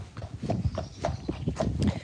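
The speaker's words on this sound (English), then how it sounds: "You've missed the clip clop." Horse hooves clip-clopping in a steady walking rhythm, about eight hollow clops in two seconds, close and moderately loud.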